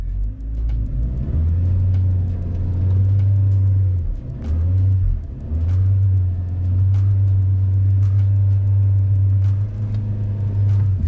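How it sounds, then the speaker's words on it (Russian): Car engine held at full throttle with an automatic gearbox, a loud, steady low drone that dips briefly twice before resuming, with a Lada Vesta automatic straining and rumbling at close range, no voices. "у меня газ утоплен в пол, больше 3000, коробка не дает крутить"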